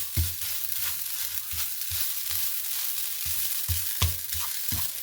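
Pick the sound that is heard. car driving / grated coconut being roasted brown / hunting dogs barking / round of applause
grated coconut being roasted brown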